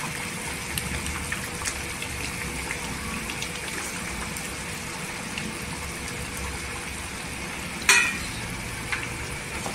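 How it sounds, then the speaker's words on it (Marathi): Egg curry gravy simmering in a pan, with a soft, steady bubbling and sizzling throughout and one brief clink near the end. "अंड्याच्या रसाला इथं उकळी आलेली आहे"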